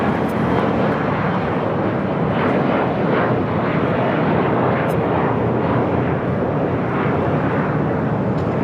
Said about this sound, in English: This is Asiana Airlines Flight 201 taking off to Seoul on the A380.